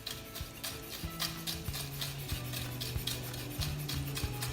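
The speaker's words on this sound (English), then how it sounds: "I'm just going to get that pickled ginger just really fine" Knife finely shredding pickled ginger on a board, quick rhythmic tapping chops repeating steadily over a faint background hum, close and fairly quiet.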